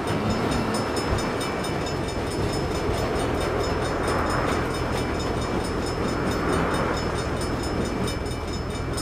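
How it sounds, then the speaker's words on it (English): A train in the video game Saints Row rumbles past in a continuous heavy roar, steady and close, with faint rhythmic rattling over a low mechanical drone. "Hell of a time for a train."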